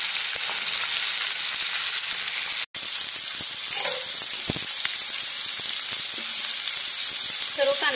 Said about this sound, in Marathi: त्यामध्ये टाकून घेऊया कांदा.